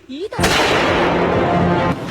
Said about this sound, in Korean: 불도저 운전자가 잠시 머리를 내민 순간 총성이 울렸습니다